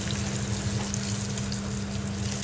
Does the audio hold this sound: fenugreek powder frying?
yes